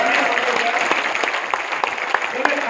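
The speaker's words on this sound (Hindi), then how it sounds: "तालियां तो मारो यार" Audience applause at a leadership development training session in a New Delhi hotel, continuous dense clapping filling the room, loud and close, with some voices underneath.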